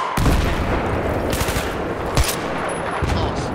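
A light machine gun fires in Battlefield 3, sending out loud, close bursts of rapid automatic shots with short gaps between them and a few sharp single cracks over a busy battlefield background.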